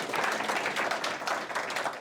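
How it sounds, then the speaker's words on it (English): Audience applause at a startup founder demo event, steady dense clapping from a crowd filling the short moment without a break. "Big round of applause."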